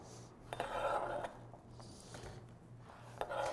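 Chopped food gets scraped off a board into a cooking pan, with close, soft clattering and scraping bursts in two main stretches over a low steady hum.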